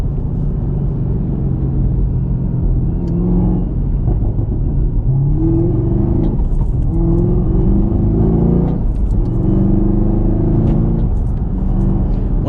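A 2019 Chevrolet Camaro ZL1 1LE on the move with windows up, its engine a steady loud low rumble heard from inside the cabin, rising and falling through gear changes.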